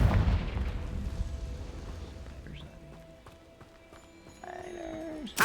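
Confringo fire spell cast in the video game Hogwarts Legacy: a loud booming blast at the start that fades into a rumbling tail, followed by a faint rising whoosh and a squealing effect near the end.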